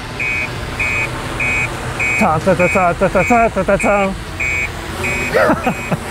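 A tethered Orion drone and its control computer sound their alarms together: evenly spaced high electronic beeps repeat in a steady rhythm, while someone talks over them in the middle of the sequence.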